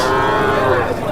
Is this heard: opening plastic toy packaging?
no